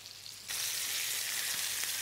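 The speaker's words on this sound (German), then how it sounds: "zweite Seite anbraten." Turkey breast searing in a hot frying pan, a loud continuous sizzle that jumps up sharply as the second side hits the pan and stays steady and close.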